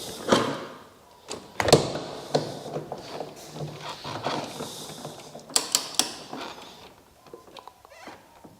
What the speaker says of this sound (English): Torque wrench time.